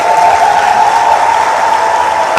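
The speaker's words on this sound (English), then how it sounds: "Let's keep the applause going" Steady, loud applause from a conference audience in Nigeria, continuous clapping filling the room without a break.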